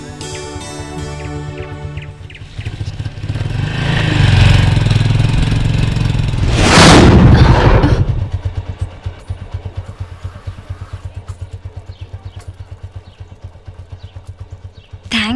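A motorcycle engine running, with a tonal start, a loud roaring surge in the middle, then a steady, rhythmic putter of idling that ticks on nearby until the end.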